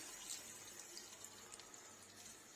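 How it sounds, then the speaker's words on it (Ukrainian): Water poured from a tap into a pan holding hake fillets, a quiet continuous trickling splash lasting a couple of seconds, with no talking. "І я налью сюди трошки водички"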